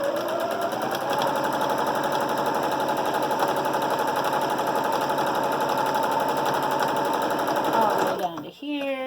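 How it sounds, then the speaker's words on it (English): A sewing machine stitching over the top edge of a fabric face mask runs in a fast, steady, close mechanical chatter for several seconds, then stops abruptly with a brief clunk. "we're going to sew right over the top of that opening"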